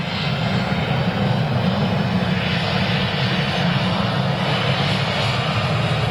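An Aer Lingus airliner, either an ATR turboprop or an A319, at Manchester Airport produces a loud, steady engine roar that holds unbroken for the whole stretch.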